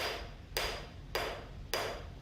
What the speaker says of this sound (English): this face of the hammer spreads the metal out in all directions